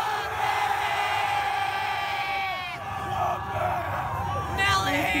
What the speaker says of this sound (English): On a count of three, we're gonna scream out Wumpus